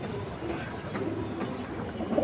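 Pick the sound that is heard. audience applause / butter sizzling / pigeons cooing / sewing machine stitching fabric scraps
pigeons cooing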